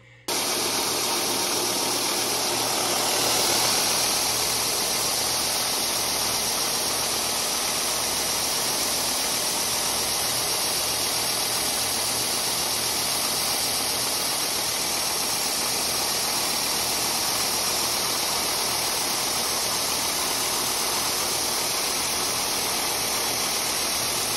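Power sanding along the outside edge of a glued leather knife sheath for a Buck 110/112, a steady unbroken whirring grind that stays loud and close throughout with no talking.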